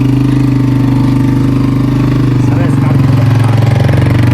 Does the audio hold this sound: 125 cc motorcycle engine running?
yes